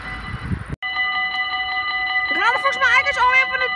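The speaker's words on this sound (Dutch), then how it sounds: "dus als het goed is hebben we weer gewoon een doodnormale 1-stop trein" A train passes through Sint Joost station, giving a loud, sustained, tonal horn-like sound that wavers toward the end, heard up close.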